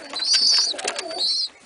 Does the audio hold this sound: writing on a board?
no